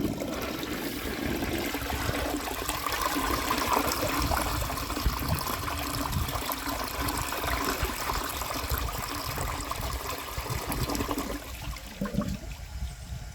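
A 1951 Crane Neuday toilet flushing a washcloth down its small trapway, a steady loud rush of water running for more than ten seconds, then easing to a trickle and gurgle near the end.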